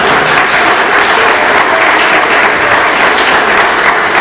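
A church congregation claps loudly and steadily for Jesus at an Assembly of God service in Guarulhos, a dense, close wall of applause throughout.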